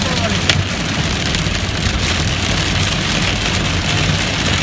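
Hail pounds down in a storm entering Plainfield, Indiana, a dense, loud, continuous clatter on surfaces with scattered sharper impacts throughout, and a voice can be heard under the din.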